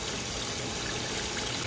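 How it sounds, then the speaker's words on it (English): Hot water runs steadily through a newly connected dishwasher supply line in a home kitchen, a constant, fairly close rushing hiss that carries unbroken and alone with no talking. "There's the hot water."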